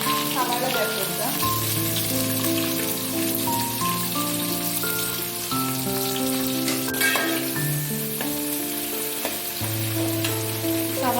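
Sliced onions frying with fennel seeds and spices in a pan for a beef roast: a continuous dense sizzle and crackle, close and loud, with occasional stirring and background music running throughout.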